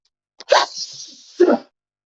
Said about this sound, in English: I kind of sneezed.